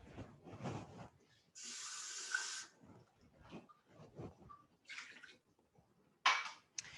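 Water pours into a cooking pan in a kitchen as a steady hiss lasting about a second, followed by a few shorter splashy bursts among quiet clatter and movement.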